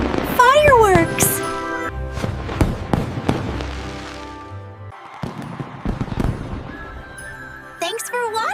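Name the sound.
fireworks exploding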